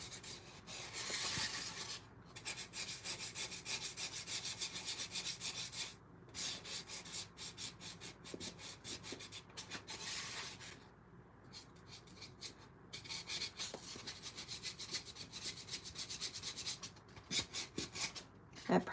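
A paintbrush smooths acrylic paint over a mannequin head, making a soft, close rubbing and scratching in repeated strokes broken by brief pauses.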